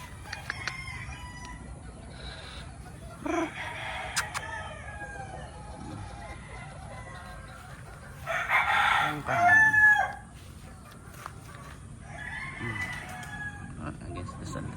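Roosters crow repeatedly on a gamefowl farm in Maragondon, Cavite, a few long calls spread across the clip with clucking between them, over faint background farm noise.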